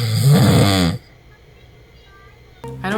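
A man snoring in bed: one loud, rasping snore up close, then a stretch of near silence before the next noisy breath begins.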